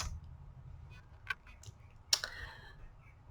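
Keyboard typing at a computer, a few sparse, crisp clicks over faint room hiss, with two sharper keystrokes standing out.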